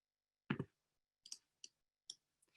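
A few sharp, isolated computer mouse clicks, close and crisp, spaced irregularly across a quiet background with no talking.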